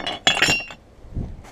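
Ceramic mugs clink and knock together in a quick cluster of bright chinks as they are picked up, close and fairly loud, followed by a softer low thud.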